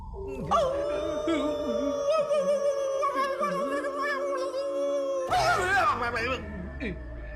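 A dog howls in a long, wavering, drawn-out cry at moderate distance, with a second louder yelping burst near the end, amid eerie background tones and some talk.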